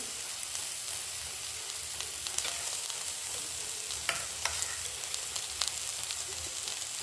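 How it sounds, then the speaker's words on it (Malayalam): Crushed garlic hits onions frying in a pan for a Kerala-style chickpea curry, giving a steady, close, low sizzle with light crackles and occasional stirring clicks, no talking. "നമുക്കിതിലോട്ട് ഈ വെളുത്തുള്ളി ചതച്ചത് ചേർക്കാം അര സ്പൂണ്"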